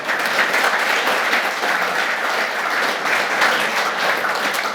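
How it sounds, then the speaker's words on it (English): A crowd at an AFLW women's football awards night gives a burst of applause, many hands clapping steadily and evenly throughout with no talk on top. "We'll just give that a little clap."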